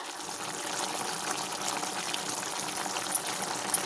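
Chicken simmers in a covered pan as its water cooks off for a garlic fry, a close, steady bubbling hiss with a couple of faint clicks near the end and no voices.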